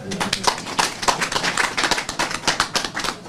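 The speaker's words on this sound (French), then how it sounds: "Je voudrais que toute l'assistance les applaudisse." Audience applause at a formal service handover ceremony makes a dense, steady patter of many hands clapping, close and fairly loud, continuing throughout without pause.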